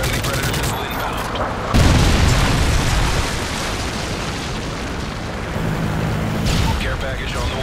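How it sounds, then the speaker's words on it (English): A Predator missile strike explodes in a video game match on the Lockdown map: a heavy boom bursts out of continuous gunfire and battle noise, with a game announcer's voice heard over the action. "Friendly Predator missile inbound."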